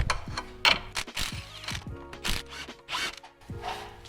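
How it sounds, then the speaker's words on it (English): An 18mm wrench clicks and ratchets in short repeated bursts while loosening the top nut of a stabilizer link on a Ford Taurus, close metallic ticks with brief scraping strokes between them. "take an 18mm wrench, take the top bolt, or take the top nut off of our stabilizer linkage"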